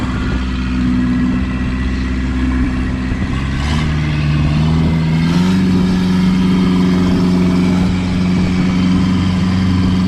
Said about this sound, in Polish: Chyba za dużo łódek po prostu, za dużo łódek tam po prostu płynie.